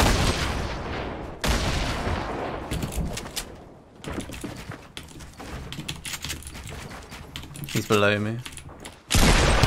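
Rapid, sharp shots ring out in a Fortnite solo match, coming in quick bursts and dense rattling volleys, close and loud, while a player speaks briefly over them.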